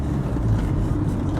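A 1982 Mercedes 240D diesel car drives along with a steady low engine and road rumble heard from inside, smooth and unbroken for a brief moment.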